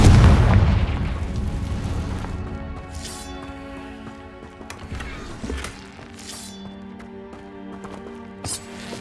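A Confringo spell explosion in Hogwarts Legacy, a heavy boom at the start that decays over a couple of seconds, followed by quieter sharp impacts and a sustained musical tone in the background.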